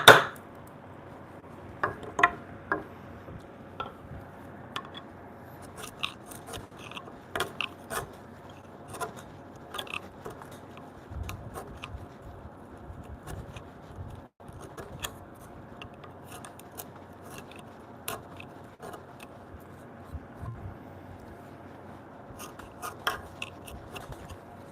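Small chisel working out knots in the wood of a curved rail, sparse sharp taps and scrapes at irregular intervals over a quiet background, close and fairly faint, no talk.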